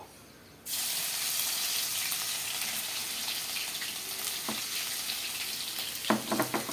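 Ginger-garlic paste hitting hot oil right after tempering seeds, bursting into a loud, steady sizzle after a brief quiet moment, with a few sharp clinks near the end.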